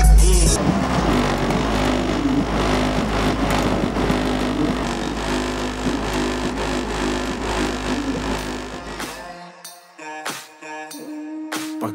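A Hyundai Elantra accelerates hard, a loud revving engine with climbing tones and a rough, throaty roar for about nine seconds, then cutting out into quieter scattered knocks and sounds.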